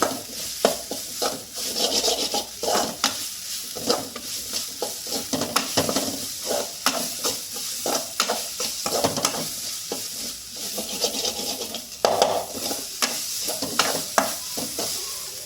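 Ginger garlic paste sautéed over high heat in a pan for a village-style fish curry: a continuous oily sizzle with rhythmic, scraping stirs of a spoon against the pan, close and busy throughout, with no voices.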